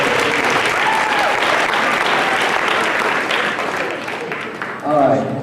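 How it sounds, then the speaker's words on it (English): A school awards night crowd gives soloists a full round of applause, a thick continuous wash of clapping with scattered voices, easing slightly before a voice cuts in at the end. "Mrs. S would like to give you a round of applause for sounding awesome and for putting yourself out there."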